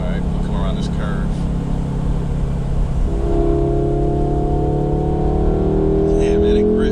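A 2022 Audi S3 accelerates around a curve using its paddle shifters: steady, loud engine and road drone inside the cabin, with the engine note stepping up and climbing in pitch partway through.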